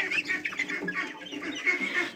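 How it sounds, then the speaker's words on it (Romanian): A rooster and hens cluck busily in a farmyard coop, overlapping calls at close range in a continuous, lively chatter with no talk. "Ăla este un cocoș."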